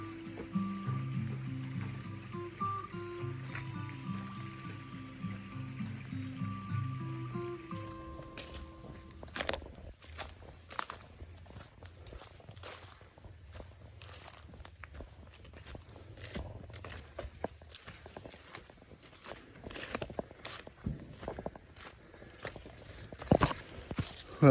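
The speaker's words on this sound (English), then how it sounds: "time to cross the creek" Footsteps wade across a creek on a June mushroom hunt in southern Indiana, with scattered splashes and sloshing steps. Music plays at first, then the irregular water steps continue alone and fairly close.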